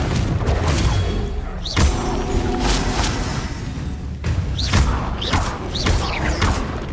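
Confringo fire spell blasts in the video game Hogwarts Legacy, cast in combat: several heavy booming impacts with whooshing rises, a cluster of hits near the middle and end, over continuous battle noise.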